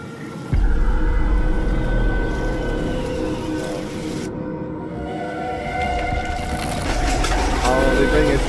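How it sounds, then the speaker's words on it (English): Train from the video game The Sinking City 2, a loud continuous rumble with rail clatter and hiss that fills the scene, layered with a low ominous score. "Oh, they bring a train into it."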